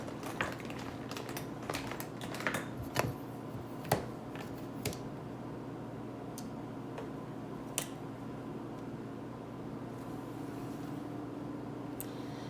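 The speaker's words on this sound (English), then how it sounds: "I'm just going to use my scissors to cut it out" Scissors cutting through duct tape for a DIY wallet, heard as a scattering of faint, sharp snips and clicks at close range over a quiet room hum, with no talking.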